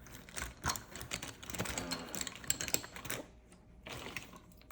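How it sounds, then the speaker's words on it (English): A wooden knife rubbed and pressed around a paper card to burnish it, giving close, scratchy scraping strokes in irregular bursts with a quiet pause before a final stroke. "I usually use a wooden knife to smooth all around the card."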